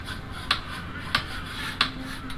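Hammer strikes in a video game: four sharp, evenly spaced knocks about two-thirds of a second apart, each a crisp metallic hit over a low steady hum.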